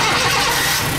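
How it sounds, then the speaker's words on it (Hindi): Car engine catching and running rough during an ignition coil check, a dense close engine roar filling the whole moment without pause. "गाड़ी स्टार्ट हो गई"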